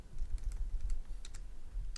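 Quick, light keystrokes on a computer keyboard tap out in an irregular burst, close and fairly quiet against a low background hum.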